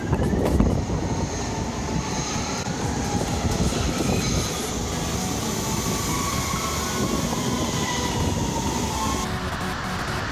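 A Los Angeles subway train roars loudly and continuously, a dense rumbling rush of wheels and motors with a faint high whine and no voices.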